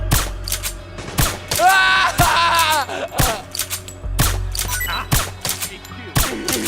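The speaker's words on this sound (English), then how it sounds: "Suppressing fire!" Suppressing gunfire in Metal Gear Solid 4: Guns of the Patriots, with sharp, loud shots in irregular bursts and single cracks, mixed with metallic rattles and other battle noise.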